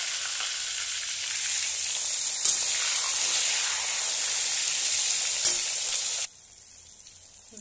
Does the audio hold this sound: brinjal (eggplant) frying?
yes